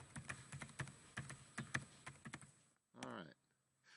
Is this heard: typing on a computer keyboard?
yes